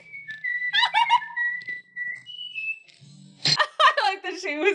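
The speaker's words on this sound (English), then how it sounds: "She was whistling the tune." Someone whistles a short melodic tune in clear, sustained notes, then a brief burst of lively talking follows.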